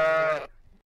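A single sheep bleat, loud and close, with a bright wavering tone that lasts about half a second before breaking off into quiet.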